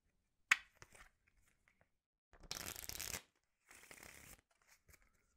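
A standard deck of playing cards being shuffled, two close riffling bursts of rapid papery flutter, each lasting under a second, with a few faint taps and handling sounds before them in an otherwise quiet room.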